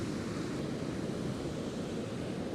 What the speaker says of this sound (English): Oh, wave incoming.